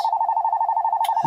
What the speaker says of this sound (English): And it's going to ring because I ain't answering it.